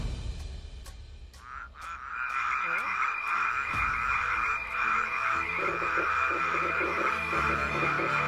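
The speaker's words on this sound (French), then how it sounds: "Il y a trop de grenouilles partout." A chorus of frogs croaks steadily, dense overlapping rasping calls that swell after the first couple of seconds and hold loud and continuous throughout, with no voices.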